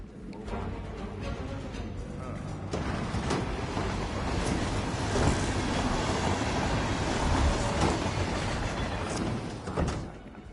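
A train rolls steadily along the rails in the video game Hitman 3, with a loud continuous rumble, rhythmic wheel clatter and some metallic squeal that fades at the end. No speech is heard.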